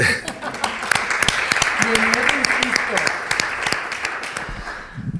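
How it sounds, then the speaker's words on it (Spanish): Audience applause for a research group at a scientific presentation: dense, fairly close clapping with sharp individual claps standing out, easing off near the end, while a voice speaks over it. "Otro aplauso para este grupo"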